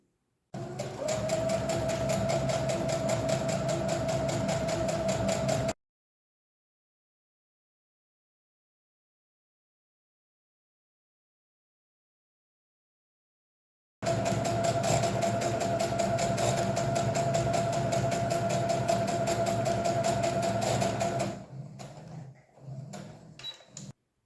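Sewing machine topstitching along the edge of a toiletry bag, running in two steady, close, rapid mechanical stitching passes separated by a long silence, with the second pass ending in a few slower clicks.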